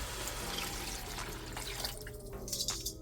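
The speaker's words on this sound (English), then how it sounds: "I already went ahead and filled up all the extra residue in my bowl with water. So we're going to toss that in now." Water from a residue bowl is poured into a pot of stewed beef, a soft continuous splash and trickle that ends in a few louder drips and splashes.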